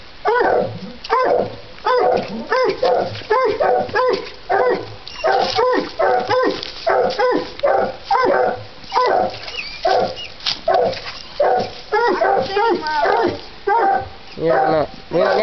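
Coon hunting dogs bay and bark inside a cave, a dense run of loud, echoing barks and howls that continues almost without pause while people talk over them.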